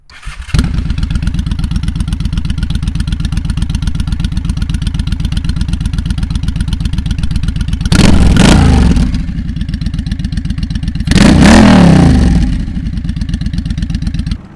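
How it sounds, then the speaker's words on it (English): A 2006 Honda VLX600 motorcycle with an aftermarket exhaust starts and idles loud and close in a deep, even pulse, with two short throttle blips that rise and fall; no talk. "the previous owner already had the exhaust on, which to me the exhaust sounds really good"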